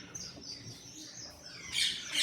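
Pet lovebirds give short, high chirps close by, scattered at first and then bunching into a louder burst of tweeting near the end, with no talking.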